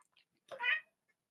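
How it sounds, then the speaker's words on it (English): A house cat gives a single short meow, faint and close, rising and falling within half a second against near silence. "That's my cat"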